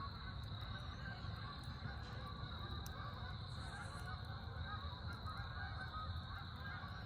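Geese migrating south for winter call faintly from high overhead at an autumn campsite in Trap Pond State Park, scattered honks carried over an even background rush of night air.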